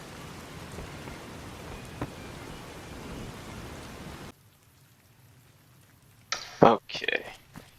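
A steady rainstorm in the video game Fallout New Vegas hisses continuously for several seconds and then cuts off, followed by a few sharp clicks and thumps.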